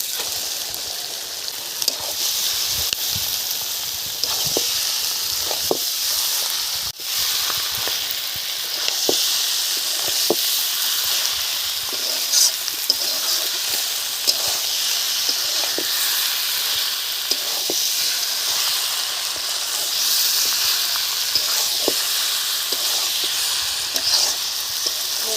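Duck meat frying in spice paste in a village kitchen, a steady loud sizzle with scattered crackles and pops throughout.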